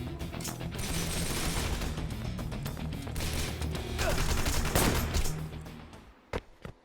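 Rapid gunfire from the action game Wanted: Dead, sustained bursts of automatic shots and impacts layered thickly, swelling near the end before a couple of isolated single shots.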